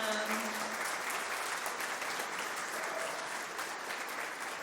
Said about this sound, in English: All right, one more big round of applause for them.